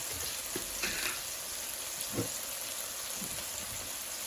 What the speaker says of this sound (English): Now I'm adding the broth